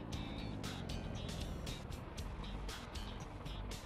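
A car drives off-road across the Glen Sheil free-roam map of the Scottish Highlands in Assetto Corsa, giving a steady, rough engine and tyre rumble with intermittent hissy bursts of gravel or wind throughout.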